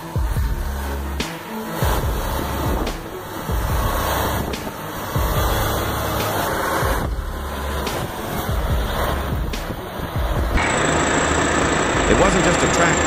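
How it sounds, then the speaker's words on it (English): A K-700 tractor's heavy diesel engine drones loudly and steadily as it drives through a river, with rumbling vibration and occasional hissing bursts; a voice talks over it. "The K-700 stormed through the river with raw, primal power"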